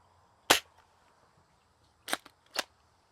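A 3D-printed Nerf hand cannon fires foam darts in three sharp, separate pops: one on its own, then two close together near the end. The room is otherwise quiet.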